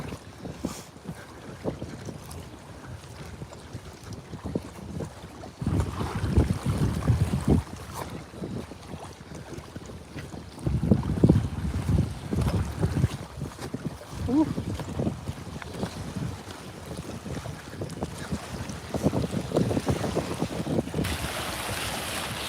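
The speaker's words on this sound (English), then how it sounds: "this wind is kicking" Strong wind gusting outdoors while catfish fishing in South Carolina, buffeting the microphone in a steady, loud roar that surges in waves, with faint talk underneath.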